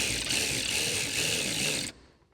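Someone tightens the front seat bolts in a 1967 Firebird with a ratchet, and the close, rapid clicking runs for about two seconds before stopping abruptly.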